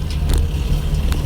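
A car engine hums and revs briefly during a driving lesson, a short steady motor rumble close by with no talk.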